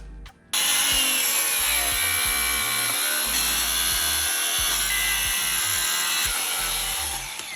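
A loud, continuous power saw grinds through an intake pipe for a Mazda Miata NB, its harsh high-pitched whine steady throughout, with a low rumbling hum beneath and no talking.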